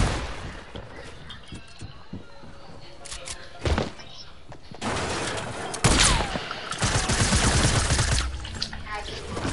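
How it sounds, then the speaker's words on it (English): Submachine gun fire in a video game, rapid repeated bursts of shots with loud sustained volleys in the second half, over busy game noise. "Why does Jordan spam the SMG?"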